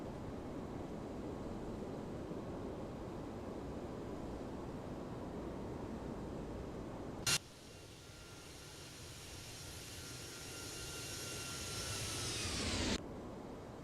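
Toliss Airbus A320 engines after takeoff in X-Plane 12: a steady broad roar with a sharp shift midway to a thinner, airier rush carrying a faint falling whine, then cutting off abruptly near the end.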